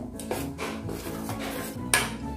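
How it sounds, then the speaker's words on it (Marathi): A metal appe pan is set down on a gas stove with a few close clattering knocks and scrapes, the sharpest clank coming near the end. "गॅस लावून घेत आहे मी, अप्पे पात्र ठेवलं आहे वरती गॅसच्या"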